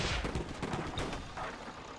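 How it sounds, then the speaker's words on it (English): Walker units firing rockets in the airship strategy game Airships: Conquer the Skies, a dense run of loud, overlapping bursts and booms that rolls on steadily for two seconds with no talking. "Oh, the walkers have got rockets"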